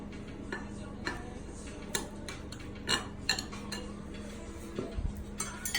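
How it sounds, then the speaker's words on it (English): A knife cuts through a golden-topped raspberry dessert on a plate, giving a few quiet, scattered clicks and taps of metal against crockery with soft scraping between them. "We're gonna go ahead and cut a slice here on the show"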